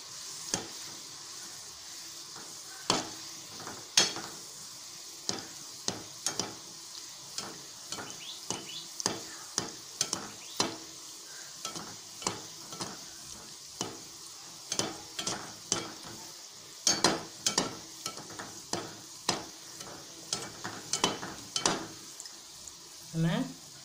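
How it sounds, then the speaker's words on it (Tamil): Dough balls for dry gulab jamun fry in oil over a low flame, giving a steady close sizzle broken by frequent sharp clicks and taps, likely a spoon stirring in the pan. "இதை நம்ம எண்ணெயில் போட்டு பொரிச்சு எடுத்துக்கலாம்."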